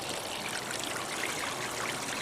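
Well water runs steadily through the sluice of a small homemade gold wash plant, a constant close trickling and rushing stream with no voices.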